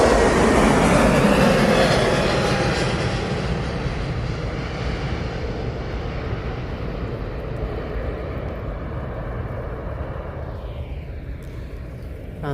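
Iberia airliner bound for Madrid departing Manchester Airport, a loud, broad jet roar that is strongest at the start and slowly fades as it recedes, with no talk.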